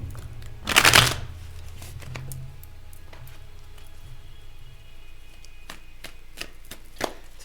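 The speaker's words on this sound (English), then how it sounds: "It's a good shuffle" A tarot deck is shuffled in one quick, close riffle burst near the start, followed by quiet room tone with a few faint, scattered card clicks.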